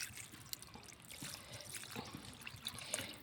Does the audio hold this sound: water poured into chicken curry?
yes